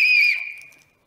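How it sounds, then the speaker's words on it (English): A whistle blows one loud, sustained shrill note, then its tone fades away over about a second. "we decide together if the whistle makes a loud sound."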